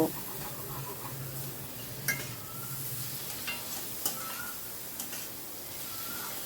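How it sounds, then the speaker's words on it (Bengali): A vegetarian dish stir-fried in a pan gives a soft, steady sizzle under a few sharp ticks and scrapes of a spoon against the metal, fairly close and moderate in volume, with no voices. "সব কিছু আবারও ভালো করে মিশিয়ে নিয়ে একটুখানি কষিয়ে নেব, মিনিটখানেক কষিয়ে নেব।"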